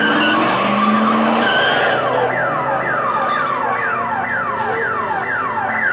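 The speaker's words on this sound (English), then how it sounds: "Oh, so he's driving that car." A car skids hard in a zombie drama TV series scene, with tires squealing in a rapid run of sweeping screeches over a loud, steady engine and road rush.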